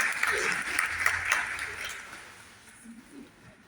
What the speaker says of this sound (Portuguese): Então, uma salva de palmas para essa querida equipe.